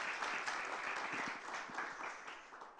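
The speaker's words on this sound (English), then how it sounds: "one round of applause" Applause from a crowd at a startup demo day in North Macedonia, a dense patter of clapping that holds steady and fades slightly toward the end, fairly faint and distant.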